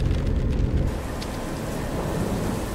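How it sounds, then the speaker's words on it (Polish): Steady heavy rain pours in Train Simulator Classic during a thunderstorm over Brandenburg, with a BR 232 Ludmiła locomotive on the route. The downpour is loud and continuous throughout, a dense broadband wash with a slightly brighter patch near the start. "Deszcz słychać"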